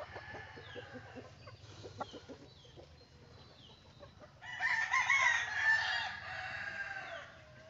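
Rhode Island Red chickens on a pasture farm cluck softly at first, then a loud crow rings out close by, with other birds calling faintly in the background.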